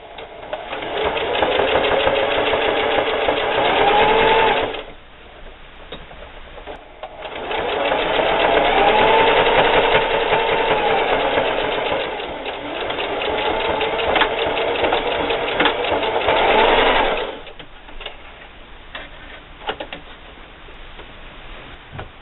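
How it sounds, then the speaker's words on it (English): Sewing machine stitching down the side of a denim wallet, a fast steady mechanical whir in two long runs with a pause between, close and alone, ending in quiet handling noises. "we're going to start sewing down this side, making sure that you catch this flap here at the bottom"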